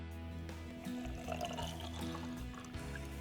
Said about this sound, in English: fill the bottle with water